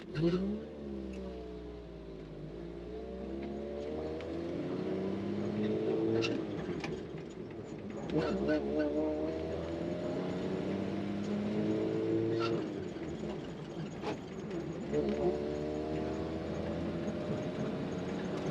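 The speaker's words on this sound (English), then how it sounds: "And then third, clutch in, push in the overdrive." A 1949 Willys Jeepster with an inline-6 engine and a 3-speed manual gearbox with overdrive, driving and shifting: the engine revs climb, drop at each gear change, then climb again, several times over, fairly faint.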